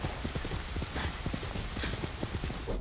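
A horse's hooves clip-clop in a steady, rapid rhythm during a ride in the samurai action game Ghost of Tsushima, loud and continuous under game ambience.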